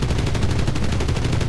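Dense rapid gunfire and explosions from the video game Enlisted, a battle on the Omaha Beach map as rockets are fired at a tank surrounded by infantry, loud, close and continuous with no pauses.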